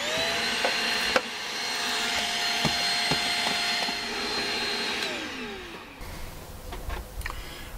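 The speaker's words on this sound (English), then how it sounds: "I still swear by my Shark Rocket vacuum." A Shark Rocket vacuum cleaner runs with a steady high whine, loud and close, then winds down near the end with a few knocks and clatters.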